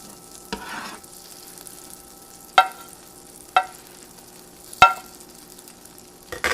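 Kale cooking down in butter in a pan gives a low steady sizzle, broken by a few sharp spatula clacks and scrapes at irregular intervals.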